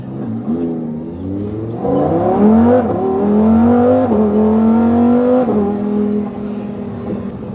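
A car engine revs loudly and close by as it shifts through gears. Its rising drone drops at each change and climbs again in stepped pulls, with no talking.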